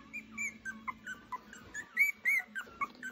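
A litter of three-week-old puppies whimpering, a run of high, thin whines and squeaky yips in quick uneven succession, close and clear over a faint steady hum.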